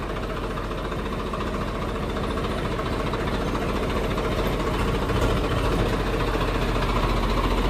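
A tractor engine runs steadily near at hand, a constant loud mid-to-low drone with faint rhythmic knocking and vibration and no change in pace, with no one speaking over it.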